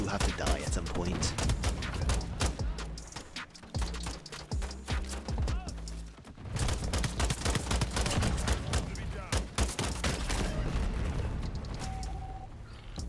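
Pistol gunfire in a Modern Warfare video game round, with dense, rapid shots cracking over game sound and music throughout, a short lull near the middle, and busy overlapping action.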